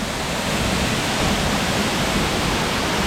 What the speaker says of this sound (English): You can like walk up right next to the waterfall.